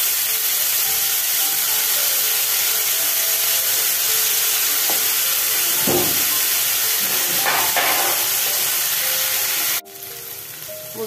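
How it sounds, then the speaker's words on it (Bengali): Yardlong beans (borboti) fry in hot oil in a kadai, giving a loud, steady sizzle with occasional stirring scrapes, then dropping suddenly quieter near the end; no one speaks. "এবার আমি কড়াইয়ের তেলের মধ্যে বরবটিগুলোকে দিয়ে দিচ্ছি ভাজার জন্য"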